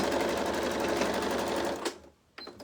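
A sewing machine stitching a couch quilt runs in a fast steady whir for about two seconds, then stops, followed by a brief click; close and loud with no talking.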